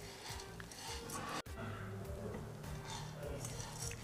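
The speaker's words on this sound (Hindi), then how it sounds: "तो बस हमें धीमी आंच में इन बीज को इस तरह से चलाते हुए भून लेना है।" Watermelon seeds roasting over low heat in a pan, stirred with a utensil, giving a soft, steady scraping and light rattling, quiet and close, with a faint background hum.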